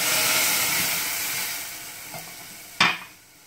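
Vermicelli for swaiya kheer, with a glass of milk just poured in, is stirred in a pan at home. A steady bubbling hiss carries a few soft scrapes and one sharper clunk of the spoon near the end. No one speaks.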